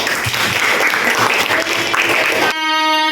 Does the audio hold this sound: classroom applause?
yes